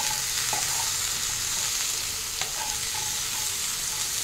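Potatoes and vegetables frying in a pan for a Bengali sukto, a continuous loud sizzle with faint stirring scrapes throughout, no voices.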